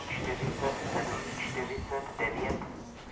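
A České dráhy passenger train on line S2 pulls into Blansko město station, with a steady rumble, hissing brakes and rolling wagon noise, while indistinct voices sound in the background.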